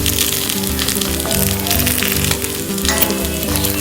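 Loud, continuous sizzling of gunta ponganalu, Rayalaseema-style batter dumplings frying in a cavity pan, crackling close up without pause.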